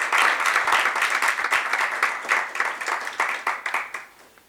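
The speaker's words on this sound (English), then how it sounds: "I want all of you to applaud the efforts of the two leaders who just presented" An audience in parliament applauds two leaders, a dense burst of many hands clapping that thins into scattered separate claps before fading out, with no speech over it.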